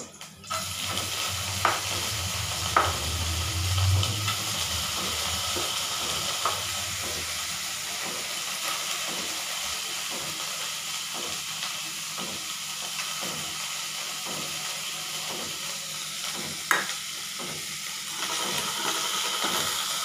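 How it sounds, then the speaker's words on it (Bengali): Soaked biuli and chana dal frying in a pan with a steady sizzle, overlaid by repeated scraping strokes of a spoon stirring, close and continuous. "একটুখানি ভাজা হয়ে যাক"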